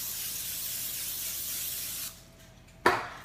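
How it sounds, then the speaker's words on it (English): Non-stick cooking spray hisses steadily from a can onto a pan for potatoes, a close, continuous spray that stops after about two seconds, followed by a short sharp knock. "So, non-stick spray."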